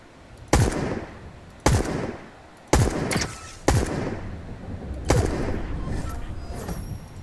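Five sharp, loud gunshots in Fortnite, spaced roughly a second apart, each with a booming echoing tail, the last trailing into a longer rumble.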